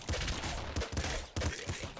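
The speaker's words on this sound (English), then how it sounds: "Super Plasma Cannon is just an obscene weapon" The Super Plasma Cannon in the video game Nuclear Throne fires in a rapid series of heavy, booming blasts with crackling bursts layered over them, loud and close, with no talk over them.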